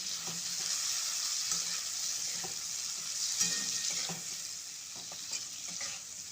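Bitter gourd frying in oil in a pan, a steady bright sizzle with intermittent scraping and clinks from stirring, close and moderately loud, no talking.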